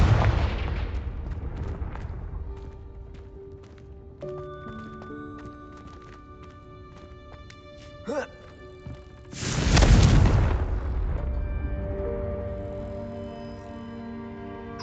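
Confringo spell explosions in a wizarding video game, a deep booming blast that swells and fades after earlier lighter impacts and whooshes over game ambience.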